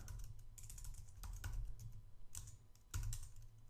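Someone types a command on a computer keyboard in a Linux terminal. There are quick, irregular key clicks and taps over a few seconds, close and clear, with no talking.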